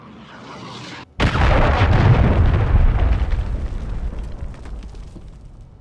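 A cruise missile strike in a video game lands as a sudden loud blast after a brief drop to near silence, then a long rumbling roar that slowly fades over several seconds.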